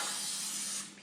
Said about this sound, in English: So I'm gonna spray some more